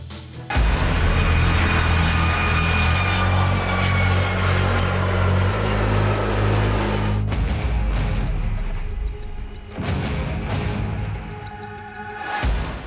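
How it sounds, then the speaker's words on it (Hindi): A passenger airliner flying overhead, a loud sustained engine roar with rising whine that fills most of the clip before giving way to a lower, rougher rumble. "कुछ यूं हवा में विमान उड़ रहा था।"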